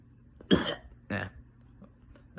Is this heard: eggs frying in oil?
no